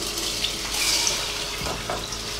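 Cold tap water pours over hemp seeds being rinsed in a bowl, a close, steady splashing flow with light swishing as a hand stirs through them; no talking.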